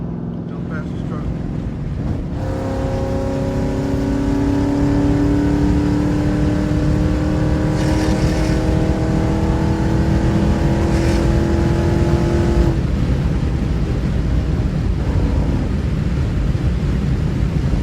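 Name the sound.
V8 engine car revving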